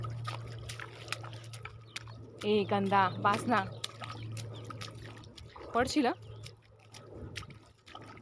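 Water trickles and sloshes as a small child plays in an irrigation channel of an onion field, a faint steady flow with splashes under an adult's repeated scolding voice.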